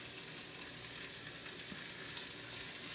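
Spicy chorizo sautéing in an Instant Pot on the sauté setting, a soft continuous sizzle and crackle, fairly quiet and even throughout with no voices.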